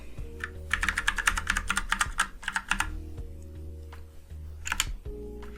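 Keys on an Ajazz K680T mechanical keyboard clack in quick bursts and scattered single strokes, close and crisp, over a low steady background hum.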